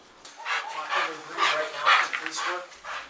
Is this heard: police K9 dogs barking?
yes